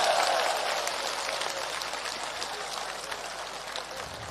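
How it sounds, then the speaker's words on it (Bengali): A crowd at an outdoor protest rally in Rangpur applauds together, a dense wash of clapping that is loudest at the start and stays steady as it slowly eases off. "আমরা রংপুরবাসী জোরে একবার করতালি দিয়ে অভিনন্দন জানাই"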